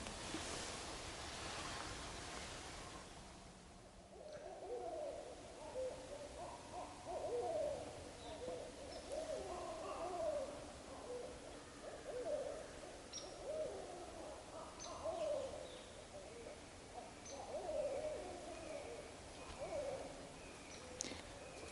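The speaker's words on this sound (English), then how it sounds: "I hear some owls." Owls hoot repeatedly in low, soft calls over a steady outdoor hiss, several birds answering each other at a distance.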